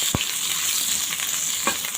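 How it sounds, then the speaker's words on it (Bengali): Garlic cloves and dried red chillies fry steadily in hot oil, a bright continuous sizzle with a sharp utensil knock near the start and another soft scrape near the end. "এবারে রসুনটাকে লাল লাল করে ভেজে নেব"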